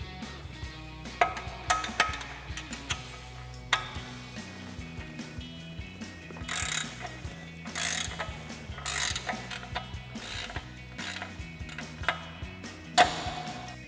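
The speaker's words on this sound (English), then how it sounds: "we're going to start off again with our 21mm ratchet wrench and 10mm wrench and get this loose" Ratcheting clicks and metallic wrench work while a 21mm ratchet wrench and a 10mm wrench loosen a steering nut on a Jeep Wrangler JL, coming in short close bursts of clicking with pauses, over a steady low background hum.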